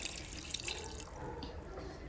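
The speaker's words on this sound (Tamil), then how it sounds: "காய்க்கு தேவையான அளவு தண்ணி ஊற்றிக்கலாம்" Water pours and splashes steadily into a cooking pan of turnip masala, a continuous close trickling sound with no talking.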